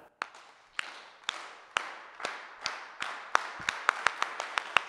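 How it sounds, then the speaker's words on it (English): A group claps the farm worker clap, starting with slow, widely spaced single claps that speed up into a quicker run of sharp claps near the end, with no talking. "now we're going to end with the farm worker clap"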